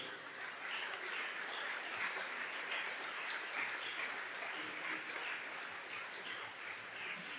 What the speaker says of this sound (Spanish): Por ahora, aplausos para Cristo.